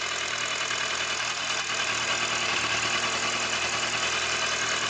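Kawasaki ZZR1100 motorcycle engine, cold, running just after a new fuel pump was fitted, a steady, close mechanical idle with a dense even hum and no break.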